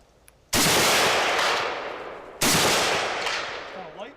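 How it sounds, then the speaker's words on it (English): AK rifle fired at an outdoor shooting range: two loud, close shots about two seconds apart, each a sharp crack followed by a long, rolling echo that fades slowly. "shooting the AK"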